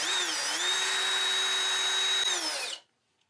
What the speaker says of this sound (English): Now we'll continue drilling the other holes, and then we'll thread the tape through them.